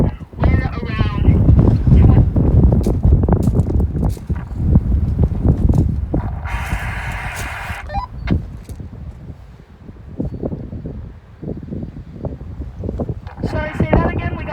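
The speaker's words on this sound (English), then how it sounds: "We got a big gust." A strong gust from a wind storm buffets the microphone with heavy low rumbling that comes and goes, under intermittent voices and scattered knocks.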